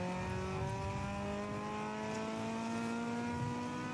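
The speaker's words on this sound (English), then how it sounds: "you managed to get me a little bit of engine sound" A race car engine drones steadily at moderate distance during an endurance race at VIR, its tone rising slowly as it revs, with a constant road-like rumble underneath and no talking.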